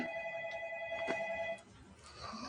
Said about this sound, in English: Oh, Eric's phone is going off.